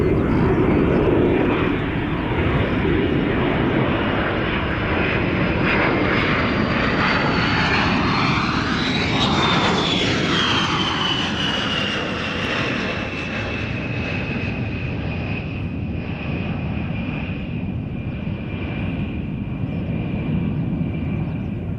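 An aircraft engine runs on a runway, a loud, steady, close roar that holds throughout with a slowly shifting whine and no speech over it.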